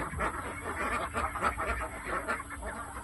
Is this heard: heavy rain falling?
no